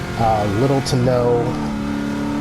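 A 2006 Ford GT mid-engine car accelerates through S-turns, its engine note rising and falling in steady revving sweeps. Someone talks over the loud engine throughout.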